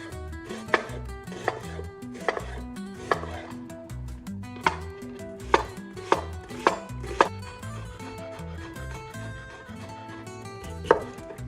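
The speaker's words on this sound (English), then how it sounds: "Start this easy recipe by peeling and chopping the onions" A knife chops onions on a board for caldo verde in sharp, irregular strokes, about a dozen distinct thuds over soft background music.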